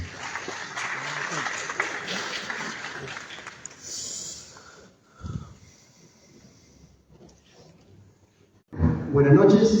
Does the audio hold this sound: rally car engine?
no